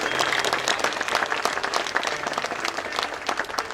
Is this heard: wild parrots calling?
no